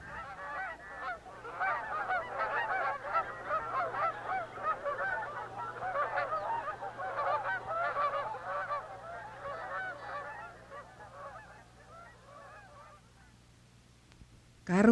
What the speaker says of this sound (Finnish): Suurina parvina palaavat Kanadan hanhet tutuille maisemilleen.